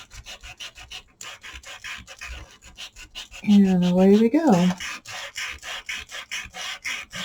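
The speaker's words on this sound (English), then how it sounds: "they're so easy to sand down with his sanding discs" Rhythmic rasping of a sanding disc on a pouncer sanding wooden tags, close and steady, briefly interrupted by a spoken line and a whirring tone midway.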